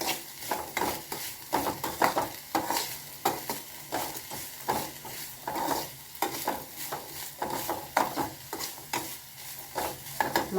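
Onions sizzling in a pan while a spoon stirs and scrapes them in a steady repeating rhythm, close and clear with no voices.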